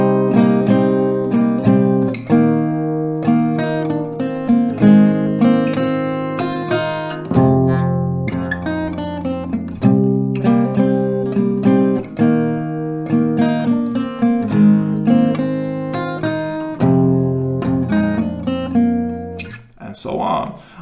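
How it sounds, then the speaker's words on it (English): Acoustic guitar plays a song, mixing a picked melody with strummed chords in a steady rhythm, loud and close with no talk. "you will really hear the melody shining through this blurry"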